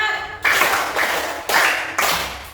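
A group claps together in four sharp, evenly spaced bursts, each crisp and loud, with the rhythm led in unison.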